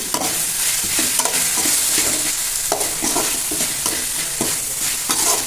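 Tomatoes sauté in a pan for mutton kuzhambu, a steady close sizzle broken by repeated scraping stirs of a spoon against the pan.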